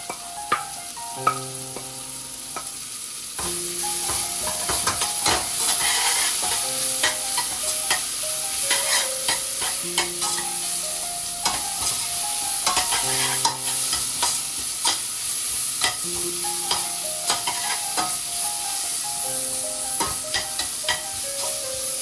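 A curry base for mango curry sautés in a pan as a close, steady sizzle that swells after a quiet start, cut by frequent scrapes and clinks of a spoon stirring it, with faint background music.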